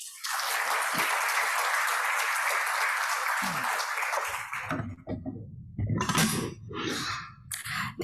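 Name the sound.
audience applause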